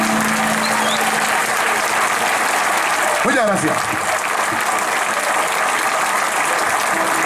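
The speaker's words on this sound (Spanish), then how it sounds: "prolonguen ese aplauso" Applause from a theater audience at a Spanish poetry and music show, a steady dense wash of clapping across the whole stretch, with a voice briefly speaking over it.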